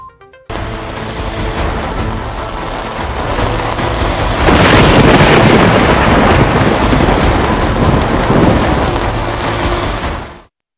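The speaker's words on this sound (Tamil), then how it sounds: "தமிழகத்தில் வடகிழக்கு பருவமழை தீவிரமடைய தொடங்கியதையடுத்து கடலோர மாவட்டங்கள் மற்றும் டெல்டா மாவட்டங்களில் பலத்த மழை பெய்து வருகிறது" Heavy northeast monsoon rain pours down steadily along the Tamil Nadu coast, a dense loud roar that swells midway with low rumbling beneath, then cuts off.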